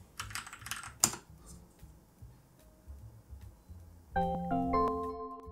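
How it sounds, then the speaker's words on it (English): Computer keyboard typing and clicks, then a short chime-like login sound on Ubuntu set up to look like Windows 10, its tones rising near the end, faint and without talk. "There's our login sound."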